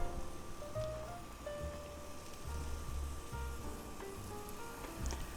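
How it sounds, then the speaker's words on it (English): Onions frying in a pan beside a breakfast burger patty, a soft, steady sizzle and crackle at low volume with faint clinks now and then. "And we'll add some onions to the pan."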